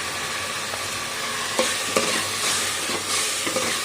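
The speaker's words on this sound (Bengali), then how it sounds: "টমেটো আর কাঁচা লঙ্কা দিয়ে দিচ্ছি, দিয়ে এটাও কষে নেব।" Tomatoes and green chillies sautéing in a hot pan give a constant sizzle, with a few sharp spatula scrapes and knocks standing out near the middle and end.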